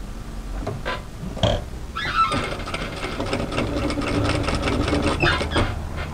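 A sewing machine back tacks and then stitches along a seam line on a knit turtleneck tunic, a close, uneven mechanical churning in short bursts that settles into a longer run of stitching.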